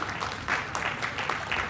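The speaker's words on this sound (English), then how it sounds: "Come on, give her a round of applause." An audience at a ballroom dance event applauds a young female dancer. The clapping is short and lively, coming in uneven bursts, with no one speaking.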